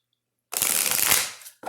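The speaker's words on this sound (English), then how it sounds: "And this is the last shuffle." Tarot cards are shuffled close by in one brisk riffle lasting about a second, breaking a silence before it, with a faint start of another shuffle right at the end.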